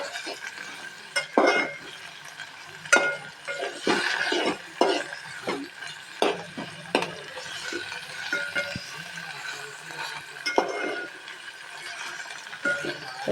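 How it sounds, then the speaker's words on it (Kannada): Spinach frying in oil in a pan for aloo palak, with steady sizzling and repeated stirring scrapes and clinks of a spoon against the pan, fairly close and continuous throughout. "ಹಸಿ ವಾಸನೆ ಹೋಗೋ ಮಟ್ಟ ಫ್ರೈ ಮಾಡ್ಬೇಕು ಇದನ್ನು"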